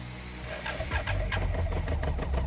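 A BMW K100 motorcycle that had not run since 2007 is started without choke. The close starter churn turns into rough, uneven engine firing that builds into a loud, steady run.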